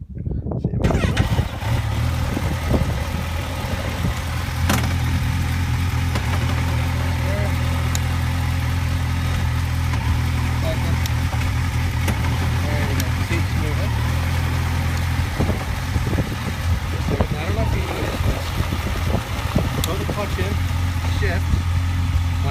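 A Kawasaki Ninja 1000 (Z1000SX) motorcycle engine starts and then idles with a steady low rumble, loud and close, for the whole stretch. Someone talks quietly over it.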